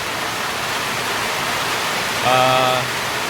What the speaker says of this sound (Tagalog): Kahit anong lakas ng ulan, buhos ng ulan talagang ano.